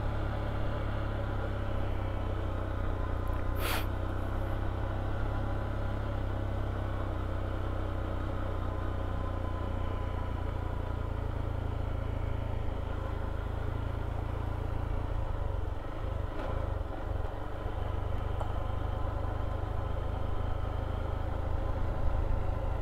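A car engine held in first gear on a rough, unfinished road between Mahaplag and Hilongos, a steady low drone and rumble throughout with faint jolts and clunks partway, and no talking.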